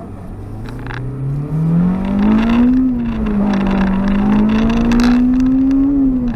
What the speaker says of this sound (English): the owner has given me the go ahead to hit Vtec and give it a bit of a caning